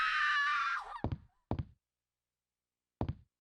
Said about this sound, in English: One of the classic stock sound effects there, that scream